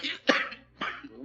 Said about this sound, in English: He's got a bad cough.